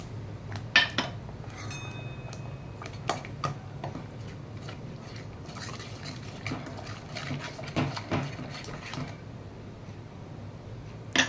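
Curd being stirred into boiling masala in a pan for paneer butter masala, with scattered utensil clinks and ticks against the pan over a steady low simmer, no talking.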